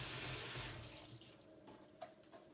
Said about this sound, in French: Là on va rincer ça.